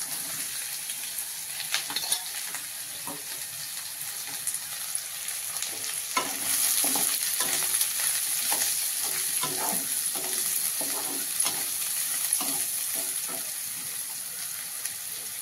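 Chopped bottle gourd hits a hot tempering with curry leaves and sizzles, followed by a run of stirring scrapes and clatter in the pan, moderately close over a steady frying hiss.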